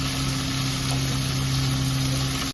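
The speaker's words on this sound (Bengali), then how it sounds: "আদা জিরে বাটা দিয়ে দিচ্ছি, ভালো করে নাড়িয়ে নেব।" Ginger-cumin paste fries in a pan while being stirred for a potato dum dish, a constant close sizzle with a steady hum underneath that cuts off abruptly at the end.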